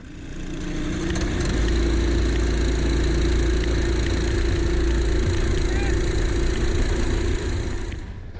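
Racing karts run an outlap ahead of a rolling start at an outdoor track, giving a loud, close, steady engine drone that holds nearly constant throughout.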